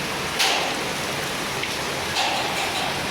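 Heavy rain pours down during flooding, a dense, steady hiss of water close by and fairly loud, with a couple of brief splashy surges and no talk.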